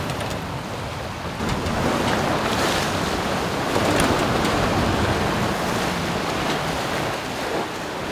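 Strong 18 to 20 knot beam wind rushing past the microphone over the wash of waves against a moving sailboat, a constant, loud roar with surges.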